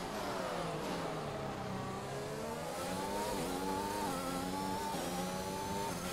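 Steady, loud engine whine of a Formula 1 car at full throttle in the F1 2021 racing game, pitch climbing through gears with brief shifts, continuous and close with no talk.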